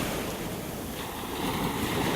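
Ocean surf washes steadily onto a beach in North Naples, Florida, a continuous, fairly loud rush of calm waves with wind buffeting the microphone and no voices.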